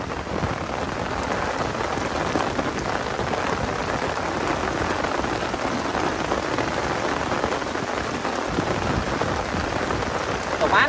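Rain pours steadily while fishing outdoors, a dense, even hiss of drops on the surface lasting throughout at moderate loudness, with no speech.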